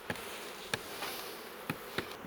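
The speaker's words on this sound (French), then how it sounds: "Là, il y a plus d'abeilles, vous voyez," Honey bees buzzing steadily close by at a hive, a dense humming drone with a few brief louder passes over it.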